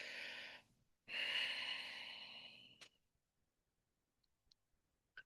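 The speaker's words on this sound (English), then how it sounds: "I'm going to take a full breath out." A slow, full exhale by a woman during a calm breathing exercise, a soft breathy rush that swells and fades over about two seconds after a brief earlier breath, followed by near silence with faint small clicks.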